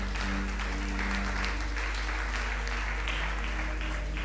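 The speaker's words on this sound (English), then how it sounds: "Let's clap your hands for Jesus." A church congregation clapping hands during a sermon, a dense, steady wall of applause that runs continuously at a moderate distance.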